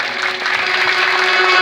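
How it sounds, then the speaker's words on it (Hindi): An audience applauding at a devotional gathering for a Sudama and Krishna tableau, a dense, steady patter of clapping throughout the short stretch, no talk. "एक बार बड़ी प्यार से इस झांकी के लिए सुंदर ताली का उद्बोधन करेंगे"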